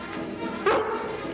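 A dog guarding a raccoon cage gives one short, sharp bark, close and fairly loud, over a brief low background hum.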